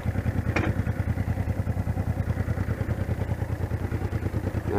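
A Honda Deauville motorcycle idles in neutral while being rolled back, its engine chugging in a steady, even pulse, loud and close, with a brief clatter early on.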